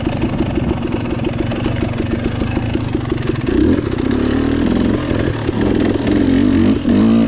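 KTM 300 XC-W dirt bike engine running steadily through a muddy hare scramble race, a loud close two-stroke buzz that surges and bogs with throttle changes.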